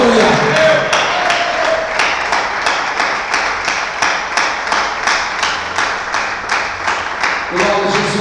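A church congregation clapping in a steady, rhythmic beat, loud and close, with sharp regular claps carrying on for several seconds.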